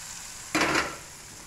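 Tempering (talimpu) for a Telugu dabbakaya pachadi hits the pan with a single sudden sizzle burst that fades within half a second, heard close and alone.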